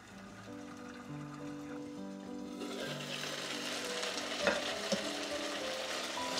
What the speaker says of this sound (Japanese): そこまでこのまま蒸し焼きにします